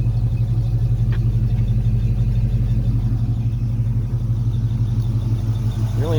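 A 1971 Chevrolet Nova SS with a 350 V8, mild cam and four-speed rumbles steadily at a loud, close idle, a constant low drone with no voices.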